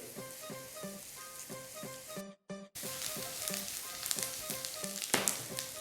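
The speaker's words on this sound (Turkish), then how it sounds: "Soğanları pembeleşene kadar kavuruyorum." Onions sautéing in a pan until pink, a soft steady sizzle with a brief dropout, overlaid by a regular pulsing tonal pattern, faint and close.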